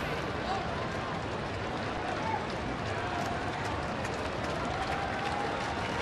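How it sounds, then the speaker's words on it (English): Baseball stadium crowd during a night no-hitter, cheering steadily for pitcher Bailey on a 3-1 count to the leadoff man in the seventh; a dense, continuous roar with a broadcaster's voice faintly under it. "Hear the crowd already, even in a 3-1 count, trying to will Bailey to throw a strike"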